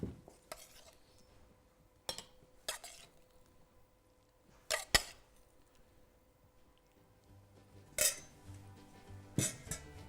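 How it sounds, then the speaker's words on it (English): Cooked gnocchetti with prawns, ginger, rocket and chilli being served onto plates, with sparse, sharp clinks and scrapes of cutlery against dishes spaced across a quiet kitchen, no voices. "Let's plate it up."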